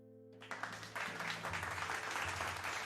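Applause sound effect on a painting stream, a crowd of clapping that kicks in abruptly and holds as a dense, steady patter over a soft background music tone.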